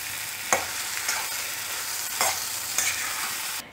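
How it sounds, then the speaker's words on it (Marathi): Dal being stirred while frying in a pan, with a spiced, chilli-coloured base: a steady sizzle runs throughout, broken by a few sharp scraping strokes of the spoon, close and clear before a sudden stop. "आता हे आपण हलवून घेऊयात"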